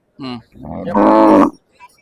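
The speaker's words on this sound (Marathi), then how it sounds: "चाळीस हजारात दोन गाय उपलब्ध आहेत" A cow at a cattle market lets out a few loud, close moos, a short call followed by a longer drawn-out bellow, then quiet.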